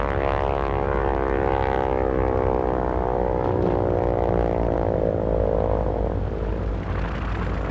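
A propeller airplane taxis on the ground, its engine drone loud and steady with a rising and falling pitch, continuing alone without talk throughout.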